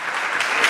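Brief burst of dense audience clapping in a hall, loud and steady, with no voices over it.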